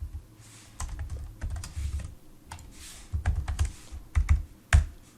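Code is typed on a computer keyboard in irregular bursts of close, crisp key clicks with short pauses and a few heavier keystrokes, no talking.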